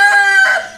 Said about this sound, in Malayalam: കോഴികളൊക്കെ ഇവിടെ അത്യാവശ്യം ഉള്ളതുകൊണ്ട് അവർ നല്ല സൗണ്ട് കേൾക്കുന്നുണ്ട്.